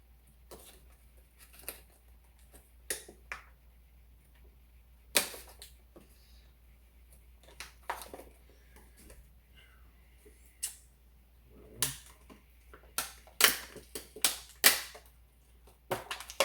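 Knife cutting up food on a board for dinner at home, sharp sparse clicks and chops scattered irregularly, quiet between, growing busier near the end.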